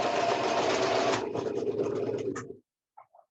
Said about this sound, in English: So I'm going to sew fast so that we'll be able to finish our towel.